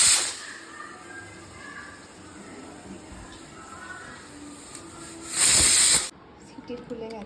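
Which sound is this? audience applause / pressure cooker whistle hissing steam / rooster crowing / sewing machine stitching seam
pressure cooker whistle hissing steam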